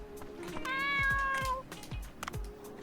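A cat meows in the video game Dave the Diver, one clear drawn-out meow over soft game background sounds and light thumps, with no talking.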